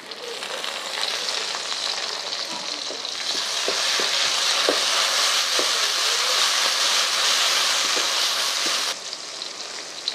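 Green chillies go into hot oil with onions and tempering spices in a wok, setting off a loud, continuous sizzle with scattered stirring clicks that drops slightly near the end, with no talking.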